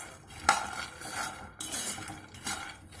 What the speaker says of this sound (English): We should keep stirring the groundnuts, or else if you just leave a break, it will become black